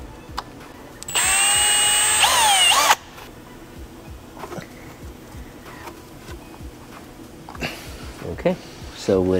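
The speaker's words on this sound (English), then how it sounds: "We're gonna drill a tiny hole where the clips can clip onto" A power drill whines loudly for about two seconds, revving up then stopping as it bores a small hole with a 6.5 mm bit in a 2024 Acura Integra Type S car part, followed by quieter clicks and handling noises.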